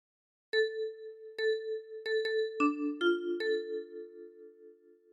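A ten-key kalimba plays a short phrase of What Shall We Do With the Drunken Sailor, seven or so plucked notes with repeated tones then a few lower ones, each ringing and overlapping, close and alone.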